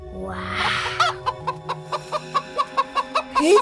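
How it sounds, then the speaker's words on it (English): A hen in Roblox Brookhaven clucks steadily, about a dozen short clucks in quick regular rhythm, near and clear over a low background tone, ending in a louder squawk. "A chicken!"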